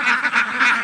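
Free-range ducks on a farm in Canlaon City, Negros Oriental, give a brief, loud burst of nasal honking quacks in quick succession.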